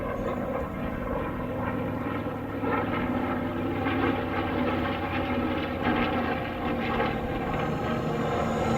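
A WWII B-25 bomber, the DAV B-25, roars past at the Wings Over Columbus 2014 air show with a loud, steady, broadband engine drone that holds for the whole stretch, with no talk over it.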